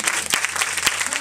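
Loud, dense applause from a congregation at an evangelical church service, continuous and close, with brief sharper claps standing out from the crowd.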